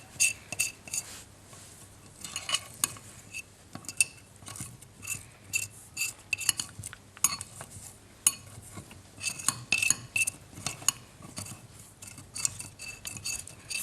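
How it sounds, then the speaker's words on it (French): Spoon stirring a water and cornstarch mixture in a bowl, with close, irregular clinks and scrapes against the container, continuous and moderately quiet, with no talking. "Je remue."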